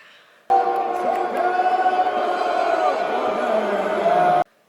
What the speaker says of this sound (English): as you can tell, the crowd weren't too happy